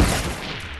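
Gunfire from a multiplayer shooter video game, one loud dense burst of shots at the start decaying into a rumbling tail, with no talk over it.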